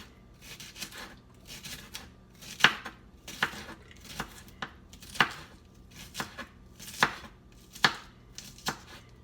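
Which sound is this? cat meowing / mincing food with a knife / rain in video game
mincing food with a knife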